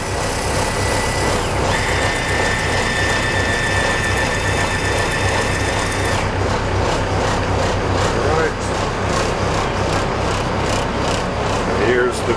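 The powered windshield vent on a 1999 Cabo 31 Express boat with CAT diesels whirs and clicks mechanically for several seconds over a constant low engine hum, then stops while someone speaks nearby.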